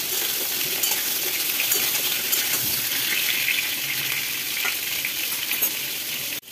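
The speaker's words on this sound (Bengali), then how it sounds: "কুমড়োগুলো কড়াইতে দিয়ে একবার উল্টে পাল্টে নেড়ে দেব।" Pumpkin pieces sizzle in oil in a wok for a veg pumpkin sabzi while being turned over, with a continuous bright crackle and occasional stirring scrapes before a sudden cut at the end.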